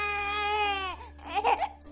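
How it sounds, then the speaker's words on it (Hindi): An infant crying in a dramatized story about a baby abandoned in a river, a sustained wailing cry followed by shorter breaking sobs, moderately close and clear over a quiet background. "ये बच्चे के रोने की आवाज कहाँ से आ रही है हमें?"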